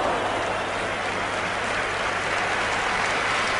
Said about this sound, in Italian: Applausi del pubblico a questo giocatore